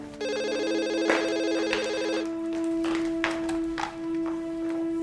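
A telephone rings during a call, a bright electronic ringtone with a steady trilling pattern that plays loud and close for about two seconds, then stops, leaving a lingering tone and faint room noise.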